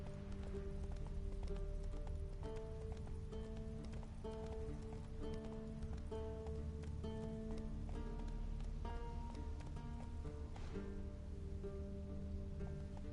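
Hooves of the horse Roach clip-clop at a steady gallop in the video game The Witcher 3, near and continuous over a layer of game music and ambience.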